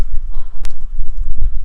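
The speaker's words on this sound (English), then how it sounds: "We got a couple of retired horses here" Retired horses walking on a farm, hooves clip-clopping in a loose, uneven rhythm close by over low background rumble, with a sharper knock partway through.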